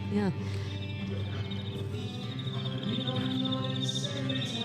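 Steady, high, pulsing cricket chirps run through the whole stretch, faint and somewhat distant, with no speech on top.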